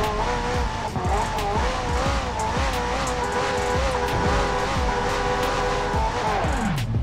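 Several cars line up for a drag race start in Forza Horizon 4, loud engines revving and whining in layered pitches, with sweeping gear shifts and tire squeal, a continuous dense roar throughout.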